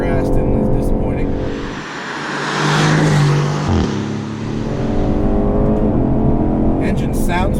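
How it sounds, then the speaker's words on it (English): A 2019 Aston Martin Vantage engine revs and surges loudly outside the car, rising and falling in pitch over several seconds with tire and road noise mixed in, fairly close. "Engine sounds great. It's a little muted in the car, but outside it sounds just lovely."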